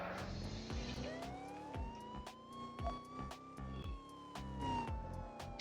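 In the video game Car Crusher 2, a police car siren sweeps slowly up and down under a rough engine drone with rhythmic clattering and sharp clicks, fairly faint and with no talk over it.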